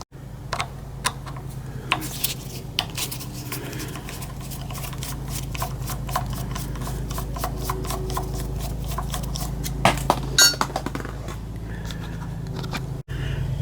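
Screws being removed from the throttle of an NSU Quickly moped engine: a run of small, close metallic clicks and ticks from a screwdriver, with a few sharper clinks near the end over a steady low hum.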